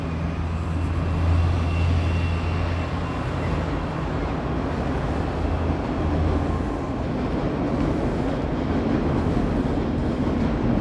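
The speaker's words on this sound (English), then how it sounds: "Oh, there goes the subway." A Toronto subway train passes in the Bloor West Village area near High Park, a steady broadband rumble with a low hum, moderately loud and continuous for about ten seconds outdoors.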